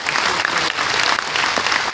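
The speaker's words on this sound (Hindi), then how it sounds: "एक बार गुरुदेव के लिए जोरदार तालियां बजा दीजिए आप" A crowd at an Agra gathering breaks into loud, dense applause for Gurudev, a continuous roar of many clapping hands with no speech over it.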